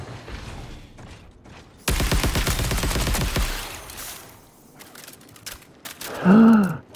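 Rapid automatic gunfire in the Marathon video game, a loud sustained burst of shots followed by quieter mechanical clicks and a sharp vocal exclamation at the end.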